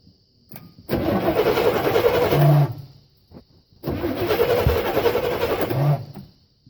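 A 1968 Chevrolet 396 big-block V8 being started with a choke, heard as two separate cranking-and-firing bursts, each roughly two seconds of loud churning engine noise that stops abruptly, with a short silent gap between them.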